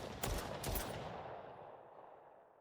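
Gunfire in an Unreal Engine 5 zombie shooter game, two sharp loud shots close together near the start, then a long fading reverberant tail with no talk.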